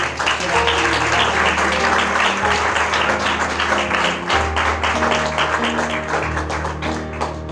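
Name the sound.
audience applause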